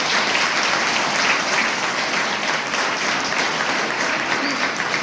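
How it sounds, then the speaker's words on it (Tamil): An audience at a Tamil event claps loudly and continuously for several seconds, a dense, even wash of applause close by, with no talk over it. "ஐயா அவர்களுக்கு ஒரு பலத்த ஒரு கரஓசத்தை எழுப்பும்."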